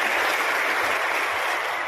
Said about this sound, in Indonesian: Sekali lagi kita berikan aplaus, tepuk tangan untuk Pak Gubernur.